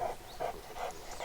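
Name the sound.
dog being trained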